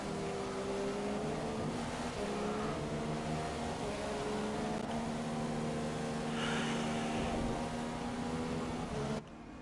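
Race cars on a formation lap behind a safety car in a racing video game, engines droning at steady, moderate revs with layered tonal hums, continuous and fairly quiet, with no talking.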